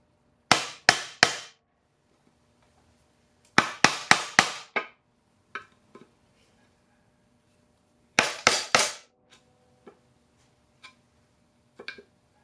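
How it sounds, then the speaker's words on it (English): Sledgehammer striking a screwdriver to knock out an engine seal on a 2008 Acura MDX engine block, three sharp metallic blows in bursts, then another set of four, a later set of three and scattered lighter taps. "So I'm just going to kind of knock this out with the screwdriver"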